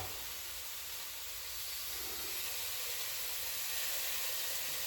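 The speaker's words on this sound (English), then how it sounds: "put them in your skillet because you want to sear them on both sides" Cubes of beef brisket sear in a hot skillet, producing a soft, even hiss that holds steady and swells slightly, fairly quiet and with no talking.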